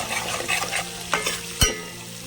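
Cabbage and potato curry stirred in a pan, a soft sizzle under a few scraping spoon strokes and one sharper clank near the end, close by.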